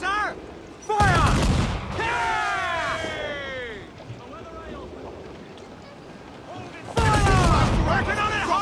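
Cannon fire during a naval battle in Assassin's Creed IV: Black Flag, with two loud broadband blasts about six seconds apart. Shouting voices rise over the booms, and wind and sea noise fill the gap between them.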